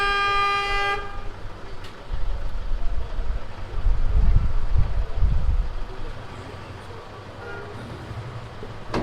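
A vehicle horn sounds in busy traffic in Ladakh, a long steady honk heard clearly at the start over a rumble of engines and crowd noise, with a faint second honk near the end.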